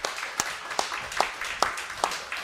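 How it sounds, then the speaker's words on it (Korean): Church congregation clapping in unison at a service, loud sharp rhythmic beats about two and a half per second, with an indistinct voice under the claps. "그리고 또 우리 북부산을 위해서도 힘차게 박수 부탁드리겠습니다"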